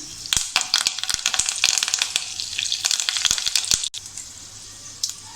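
Mustard seeds and curry leaves crackle and pop sharply in hot oil over a steady sizzle that briefly drops and then returns.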